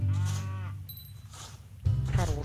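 Two loud, low, sustained cow moos from the Farm Craft farming game, one at the start and one near the end, separated by a quieter stretch with a brief high electronic game tone.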